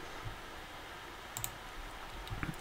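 Light clicking of keys on a computer keyboard, a few scattered soft taps spread over a quiet stretch with faint room noise in between.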